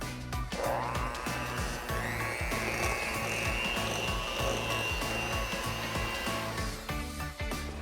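Electric mixer creaming pound cake batter, a steady continuous motor whir with beater rattle running loud and unbroken throughout, pitch rising slightly as it gets going near the start.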